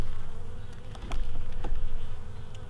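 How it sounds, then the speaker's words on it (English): A steady, dense buzzing of many bees robbing out a honey-filled hive frame, continuous and loud, with occasional closer passes standing out. "It's just getting robbed out by bees."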